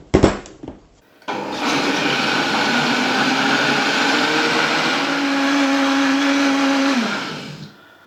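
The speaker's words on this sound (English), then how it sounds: "we just want to whizzify this for about a minute till it's really smooth" Blender puréeing a curry sauce for chicken chasni, a loud steady whirring motor that starts after a short clatter, holds for several seconds with a rising pitch as the sauce smooths, then winds down near the end.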